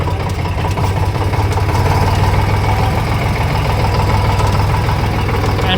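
A tractor engine idles nearby with a steady, loud low rumble and a fine rapid knock that holds evenly throughout, with no voices over it.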